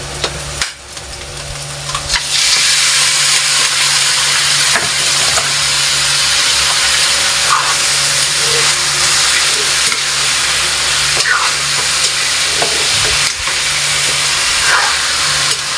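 Pork frying in a pan for Sprite pork adobo, giving a loud, steady sizzle and hiss that swells after the first couple of seconds and holds with small pops throughout, with no speech.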